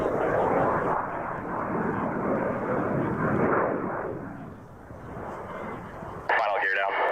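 An airplane on final approach with its gear down comes in to land, its engines a loud, steady roar throughout that swells and dips slightly, with a brief radio-like burst near the end.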